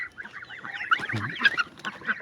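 A flock of geese and ducks honk and quack in a busy, overlapping chorus nearby.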